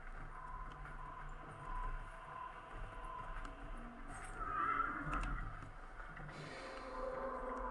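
A horse in a video game neighs in a long whinny over a steady low background rumble and faint hoof-like clatter, with no voices.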